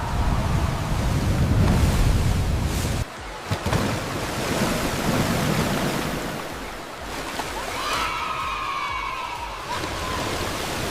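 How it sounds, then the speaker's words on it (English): Waves churn in a waterpark wave pool, a broad roaring wash of surging water that swells and briefly drops away before building again, loud and close with no talking. "what is a wave pool? It makes waves just like the ocean."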